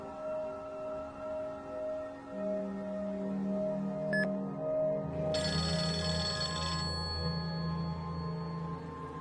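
A telephone rings in a quiet indoor scene, a faint electronic ringtone tone with a sharper trill that starts midway and carries over a low steady background hum, with no talking.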